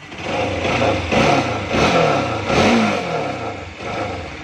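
A Bajaj Pulsar NS200 motorcycle, just repaired after repeatedly blowing its fuse, runs close by, its engine revving up and down in several loud surges over a steady idle.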